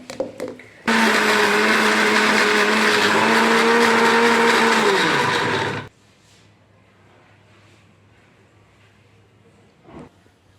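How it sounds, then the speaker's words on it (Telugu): A mixer grinder whirs loudly and steadily for about five seconds as it blends fried roselle flowers with a drop of water into chutney, then cuts off, leaving near quiet with a faint knock. "ఇది మెత్తగా మళ్ళీ ఒకసారి మిక్సీ పట్టుకొని"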